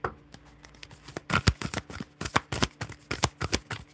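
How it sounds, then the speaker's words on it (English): Tarot cards being shuffled by hand in a series of quick riffling, flapping bursts with a steady rhythm, fairly close and clear, with no talking over them. "I'm over here shuffling. Shuffling like a mofo."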